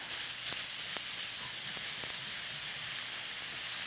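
Ground turkey sizzles steadily in a hot pan, a constant close frying hiss with occasional small pops and crackles, no voices.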